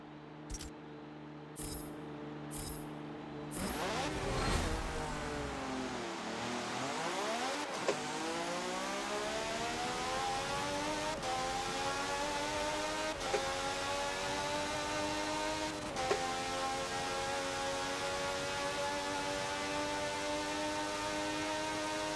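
In the Forza video game, a race car engine at Indianapolis revs up from a low rumble into a rising, sustained high-pitched whine. The engine climbs through a few gear shifts and holds steady at speed, close and alone.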